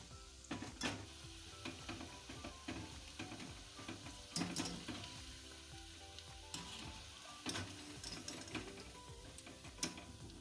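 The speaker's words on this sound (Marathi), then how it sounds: "गॅसवर मस्त होऊ द्यायची भजी फास्ट गॅस करायचं नाही" Taro leaf fritters fry in oil over a gas flame with a steady close sizzle, crackling bursts and occasional clinks of a utensil stirring, no voices.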